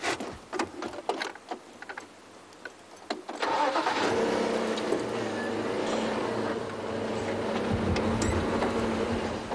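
A safari vehicle engine in the Sabi Sand reserve starts after some scattered clicks and rattles, then settles into a steady, fairly loud running drone that continues to the end.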